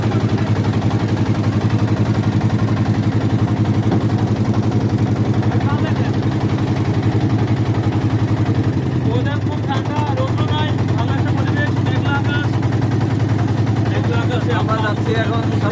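A hired trawler boat's engine drones loud and steady throughout, a constant low rumble with people talking over it.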